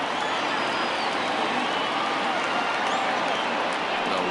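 A dense baseball stadium crowd in a PS4 game roars and cheers steadily throughout, a constant wash of noise with no breaks.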